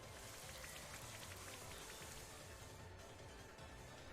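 Steady, dense rain from the Rain Dance move in Pokemon Sword pours down evenly for the whole stretch, a constant hiss of drops with no talk over it.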